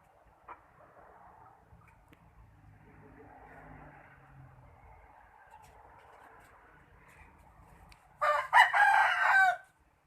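Faint, steady background ambience at a free-range chicken yard gives way near the end to a loud, close rooster crow lasting about a second.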